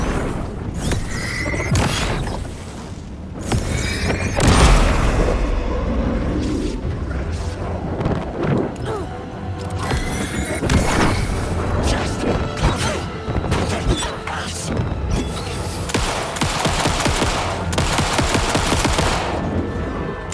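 Rapid bursts of gunfire and crashing impacts from the video game Alan Wake 2: Night Springs, loud and dense throughout with repeated sharp shots over a rumbling background.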